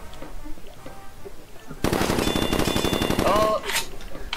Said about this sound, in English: I have a golden gun.